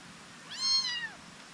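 A cat meows once in a rice field in the early morning, a single rising and falling cry of moderate loudness over a quiet outdoor background.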